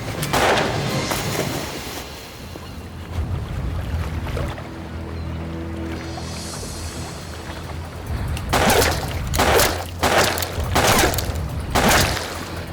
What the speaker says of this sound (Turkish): Silah sesleri şu taraftan geldi.